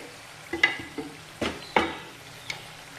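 A curry of snails and raw chana dal simmers in a pan with a soft sizzle and bubbling, broken by a few close clinks and scrapes of stirring.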